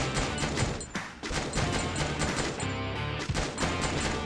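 Rapid, loud automatic gunfire from a video game shootout with a KORD machine gun, dense bursts of shots in quick succession filling the whole stretch with only brief pauses.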